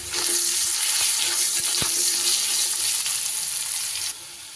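Steady, loud sizzling of potatoes frying in a hot pan with a little salt and turmeric, with a few faint clinks, easing slightly near the end. No one speaks.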